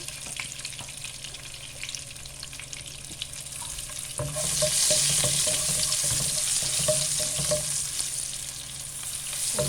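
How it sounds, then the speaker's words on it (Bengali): Garlic, turmeric and five-spice seeds fry in hot oil, making a constant crackling sizzle that swells louder and brighter about halfway through, with faint clinks of stirring. Nobody speaks. "রসুনটা ভাজা ভাজা হয়ে গেছে"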